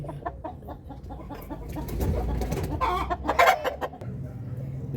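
A hen clucking close by in a wooden coop set up for brooding eggs, with repeated low clucks and a louder squawking burst midway, steady throughout.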